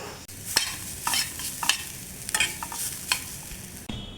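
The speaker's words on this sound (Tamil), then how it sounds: "தேங்காவை நல்லா வறுக்கணும்." Grated coconut roasting in a pan for a somas sweet, stirred with repeated scraping strokes and a soft dry sizzle, fairly close and steady, with no talking.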